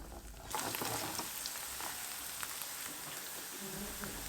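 Red pepper flakes sauté in hot olive oil, giving a steady soft sizzle with faint crackles that sits low and continuous throughout, alone without any voices.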